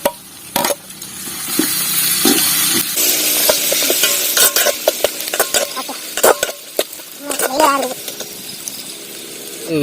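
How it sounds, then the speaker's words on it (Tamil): Tomatoes stirred and sautéing in a pan with browned onions while making biryani, giving a close, steady sizzle broken by repeated scraping and clattering of a spoon against the pan, with some voice in places. "தக்காளியை போட்டு நல்லா வதக்கிக்கலாம்."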